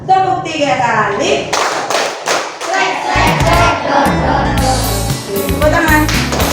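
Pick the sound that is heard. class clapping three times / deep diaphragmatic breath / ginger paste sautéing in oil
class clapping three times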